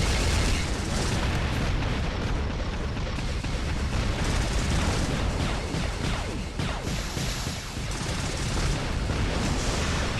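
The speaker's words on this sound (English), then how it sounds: "I like the effect on this weapon. Firing those orbs, the Viper." Viper weapon in the War Robots video game firing orbs on the Castle map, a dense continuous roar of blasts and rumbling impacts that stays loud and steady throughout.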